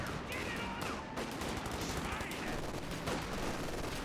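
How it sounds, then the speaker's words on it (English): Grenadier squad rifles fire in Company of Heroes 2, a dense, continuous battle din of overlapping gunshots and blasts that stays loud throughout with no pause. "Another Grenadier firing away"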